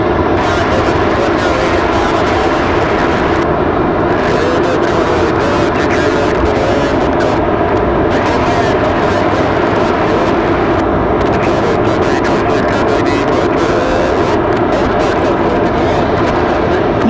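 A Pilatus PC-12 turboprop at Raleigh Durham airport makes a loud, steady engine drone and rush, with crackling wind buffeting through most of it. Faint voices may be mixed in.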